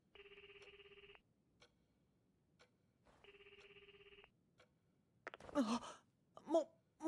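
An electronic telephone rings twice in steady trilled bursts with a long pause between, faint and clear, followed by a few breathy gasps and sighs.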